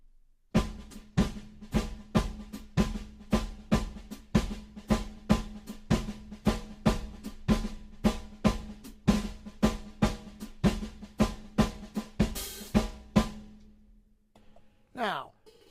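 Drums play a groove with alternating right-left sticking, a steady loop of sharp hits over a low sustained tone, ending with a brief cymbal-like wash and a short voice at the very end.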